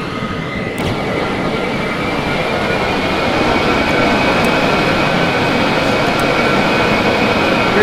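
In the game Scrap Mechanic, a built flying vehicle called the Dart makes a steady, loud engine roar with a faint high whine running through it, sustained throughout without any break.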